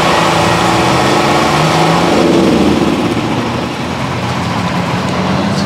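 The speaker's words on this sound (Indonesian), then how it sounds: "tadi ada suara genset teman-teman" A generator runs steadily beside an elderly street vendor's stall, a continuous loud mechanical hum and rumble that holds nearly unchanged throughout, with no talk over it.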